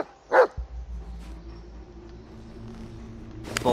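A dog in the horror video game Blair Witch gives a single sharp bark, followed by a low ambient drone and a final short yip at the end, with no talking.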